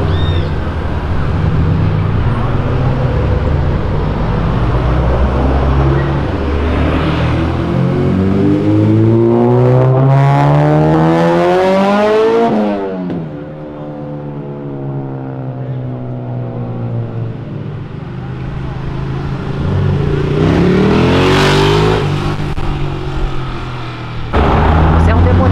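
A Honda Civic and a 400 hp Volkswagen Golf GTI roar along an avenue, engines revving hard with rising, climbing gear pulls that sweep past close and loud, then fade before another car surges through near the end.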